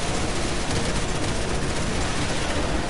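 Rapid, continuous fire from a mounted gun in Resident Evil 6, a dense unbroken roar of shots filling a few seconds without pause.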